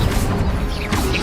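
Incendio spell cast in Hogwarts Legacy, a loud crashing, whooshing burst of fire that fills the whole short moment with dense close-up noise.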